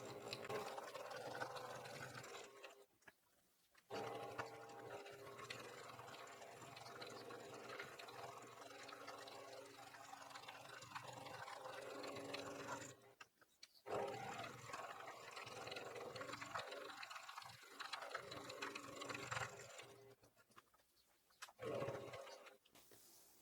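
A sewing machine stitches a seam around a fabric utensil holder, running in long steady whirring stretches that stop briefly several times before starting again. The machine is close, and no one speaks.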